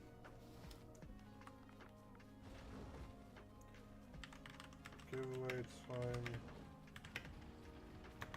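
Computer keyboard typing during a console game stream, a run of light clicky keystrokes under a voice and background game music with a few louder tones.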